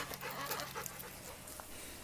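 A dog pants softly and rapidly up close, a faint rhythmic breathy huffing with a small whimper, in a quiet room.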